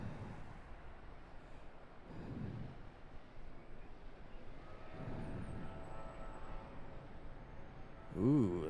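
A CRJ regional jet departs Charlotte airport, its engine roar a broad, steady rumble that swells and fades in waves, fairly distant and mixed with wind noise, with a voice briefly audible near the end.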